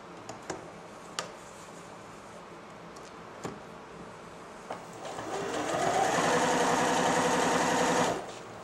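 A Janome 760 sewing machine stitching fabric runs in a steady, close mechanical whir for a few seconds, preceded by scattered clicks and taps as it is set up, then stopping abruptly.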